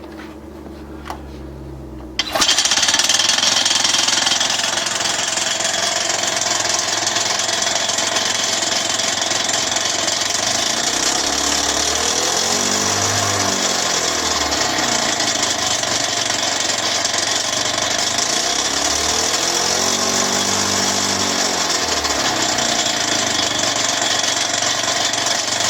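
After a brief quiet start, a petrol engine driving an alternator generator set starts up and runs loudly and steadily, a constant mechanical roar with slow rhythmic pulsing swells.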